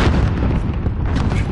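A grenade explodes in a video game, a dense, booming blast with rumbling low-end impact sustained through the short clip, no voices over it.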